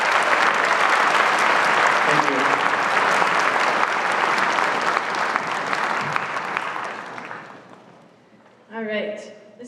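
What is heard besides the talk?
audience applause at a school orchestra concert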